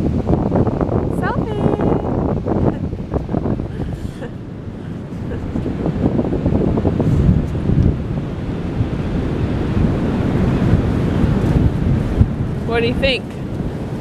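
Small ocean waves washing onto a beach, a steady rushing surf under heavy wind buffeting the microphone, with people talking nearby.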